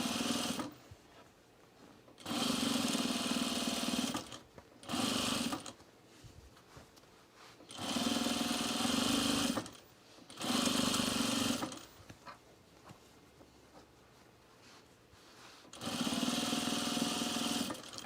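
Sewing machine stitching a homemade sewn rug, running in loud bursts of steady whirring that start and stop several times, with quiet pauses between runs.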